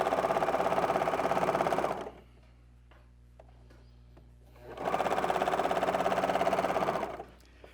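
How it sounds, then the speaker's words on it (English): A sewing machine with differential feed runs steadily, pulling fabric through itself in two sustained bursts of whirring stitching a few seconds apart, with a quiet pause between them. "I'm letting the machine feed the fabric the way it will."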